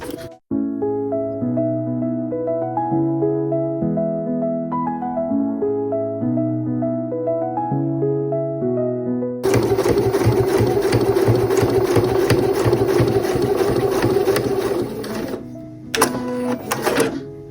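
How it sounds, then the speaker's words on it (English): A sewing machine stitches close along the bottom seam of a bag pocket, running densely and continuously for several seconds after a stretch of gentle tonal music, then stopping briefly and starting again. "So we're just going to stitch along this bottom line close"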